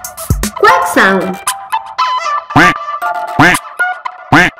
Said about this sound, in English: Quack sound.